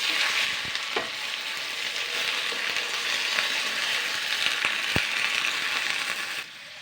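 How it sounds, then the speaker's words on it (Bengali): Cumin seeds and a dried red chili sizzle and crackle in hot oil, a steady, close frying hiss with a few sharp pops and the clink of a stirring spoon, no talking. "এবার আমি একটুখানি সাদা জিরে আর একটা শুকনো লঙ্কা ফোড়নের জন্য দিচ্ছি"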